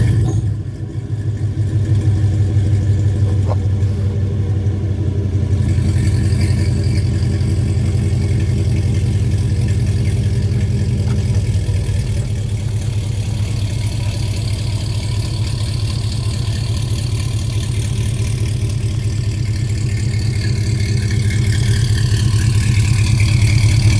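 A Chevy Silverado 5.3 V8 fitted with long-tube headers runs steadily close by, a loud deep exhaust drone with a throbbing low rumble that holds through the whole stretch with slight shifts in pitch.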